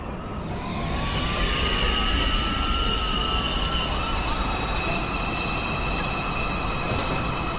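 A New York City subway 2 train at 207 Street station, wheels squealing in long high rising and falling tones over a steady rumbling roar of rolling cars, fairly close and continuous throughout.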